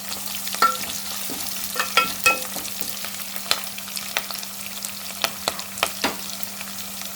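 Onions frying in a pan over a medium flame for sambar, a soft steady sizzle with a spoon scraping and clinking against the pan at irregular intervals, no voices.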